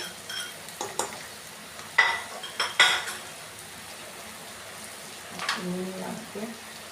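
Onions frying in a pan while a spoon stirs them, giving scattered scrapes and metallic knocks against the pan over a soft sizzle, with a brief low voice near the end.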